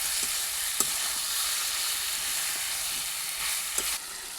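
Potatoes and pointed gourd fry in spiced oil for a Bengali fish curry, a continuous bright sizzle broken by occasional scraping knocks of the stirring spoon against the pan.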